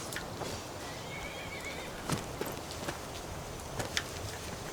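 A horse whinnies in a video game over steady background noise, with a few soft hoof-like clops scattered through.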